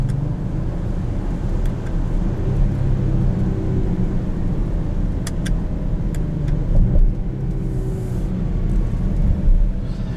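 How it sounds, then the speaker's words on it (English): A 2020 Range Rover Velar P340 S R-Dynamic on the move, with a steady engine drone and road rumble from inside the cabin and a faint high intake whine riding over it. "You're going to get a very nice intake whine."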